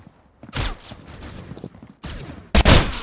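Gunfire in the mobile shooter game Critical Ops: sharp bursts of shots, a short volley early, quieter trailing shots, then a loud closing burst.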